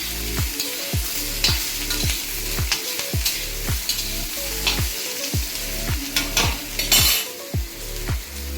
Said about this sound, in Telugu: ఆనియన్స్తో పాటు బీరకాయలు, బీరకాయ ముక్కలు కొంచెం ఫ్రై చేసుకోవాలి.